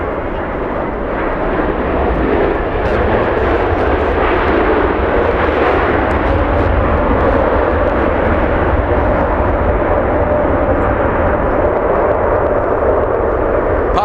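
A Boeing 777 landing at Los Angeles International Airport, a loud, continuous jet engine roar heard from nearby that holds steady and broad for the whole stretch without letting up.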